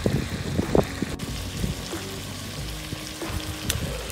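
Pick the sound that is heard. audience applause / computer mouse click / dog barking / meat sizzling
meat sizzling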